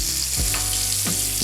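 Butter-basted steak fries in a pan with a steady loud sizzle, spattering close by, with two brief bubbling swells as the hot butter is spooned over.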